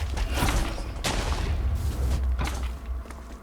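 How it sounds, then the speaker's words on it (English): Explosions from a boss in the Minecraft modpack Prominence 2 come as a rapid series of sharp booms and thuds, several bursts close together over a rumbling low background. "That does mean he's throwing out these explosions a lot quicker."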